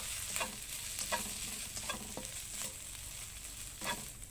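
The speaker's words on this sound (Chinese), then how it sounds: "再来加入虾米碎， 把虾米也炒香" Chopped dried shrimp stir-fried in a wok, a steady close sizzle and frying hiss with a few soft scraping stirs of the spatula every second or so, no voices.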